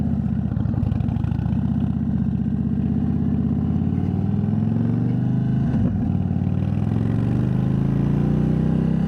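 An Indian Chief Bobber Dark Horse motorcycle engine pulls hard under acceleration, a deep throbbing V-twin rumble heard close and loud, its pitch climbing steadily with a brief shift midway.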